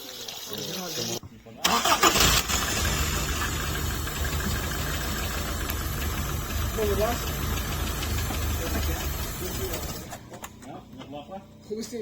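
A 1977 Honda Accord engine cranks and catches, then runs with a steady, slightly uneven idle close by, with people talking over it before it cuts off.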